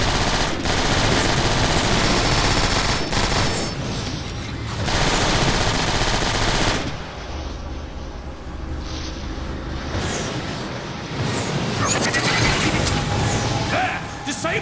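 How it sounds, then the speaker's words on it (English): Constant loud automatic gunfire from the video game Transformers: War for Cybertron, with dense rapid bursts and mechanical clatter running the whole time and scarcely any break. "Shoot your way in!"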